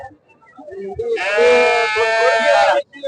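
A single loud, close sheep bleat, long and quavering, with faint murmuring and clatter in the background before it, at a weekly goat and sheep market in Sangola.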